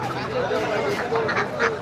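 Ducks at a market stall in Saudi Arabia give a few short nasal quacks close by, mixed into continuous nearby talking and general market bustle.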